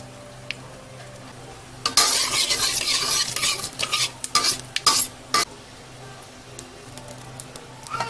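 Dried red chilli and black cumin seeds sizzle in hot oil in a wok, starting with a sudden loud crackle and continuing as uneven bursts of stirring and spitting that fade toward the end.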